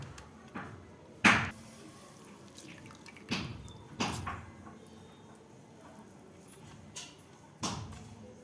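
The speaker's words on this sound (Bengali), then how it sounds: "আলু থেকে জল ঝরিয়ে নেব।" Washed potatoes are squeezed by hand so water drips and splashes out in short separate bursts, about seven clear spatters spread over the quiet, close by, with no talking.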